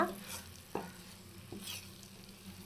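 A spoon stirs thick jackfruit halwa in a pan with soft scraping strokes and a low sizzle, close and fairly quiet, in a few separate passes.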